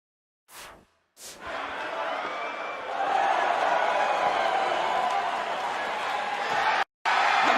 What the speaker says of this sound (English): Sold-out, record-setting crowd here for BCW tonight.